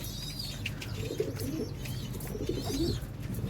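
Pigeons in a loft coo softly and repeatedly, low throaty calls rising and falling over a steady background hum, with faint higher chirps scattered throughout.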